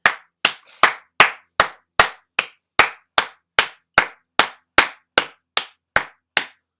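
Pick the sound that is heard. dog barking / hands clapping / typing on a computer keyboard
hands clapping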